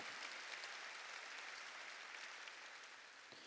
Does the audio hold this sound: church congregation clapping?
yes